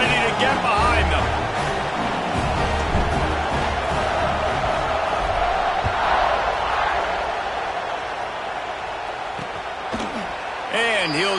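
A stadium crowd in a college football video game, with Wisconsin on the field, roars as a steady, loud, dense wash of cheering that stays unbroken for the whole stretch.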